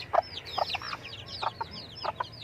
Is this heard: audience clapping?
no